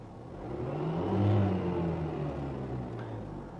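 A Ford car engine revs up to a peak and slowly winds back down, a steady mid-pitched drone close by with no other sounds; the car is faulty and does not move when revved.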